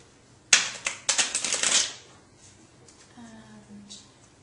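A pack of playing cards shuffled up close, a loud burst of riffling and flapping card sounds lasting about a second and a half, followed by quiet room tone.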